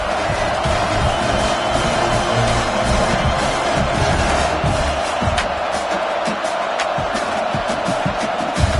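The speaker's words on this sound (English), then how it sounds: "Decibels rising as the crowd gets behind this defense on third down." A dense stadium crowd roars steadily and loudly on a third down at a college football game against Colorado. The noise stays continuous throughout.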